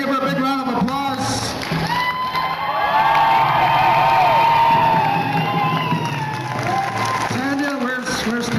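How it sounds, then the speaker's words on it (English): An indoor mall crowd at an Idle No More grand entry in West Edmonton bursts into applause and cheering, with whoops and children's shouts swelling to a loud peak midway before easing, amid echoing voices. "So I want everybody to give her a big round of applause."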